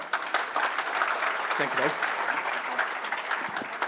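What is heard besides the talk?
conference audience applause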